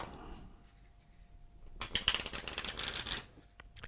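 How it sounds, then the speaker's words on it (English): A deck of Bicycle playing cards is riffle-shuffled up close, a quiet lead-in giving way to a dense, crisp burst of fluttering card snaps that swells, peaks, and then stops short. "So we'll begin this trick by giving the deck a shuffle."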